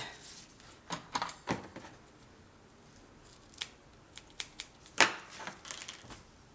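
Scissors snipping through scrapbooking paper for a baby girl album, a run of sharp, close cutting strokes at an uneven pace, with the loudest snip near the end and no talking.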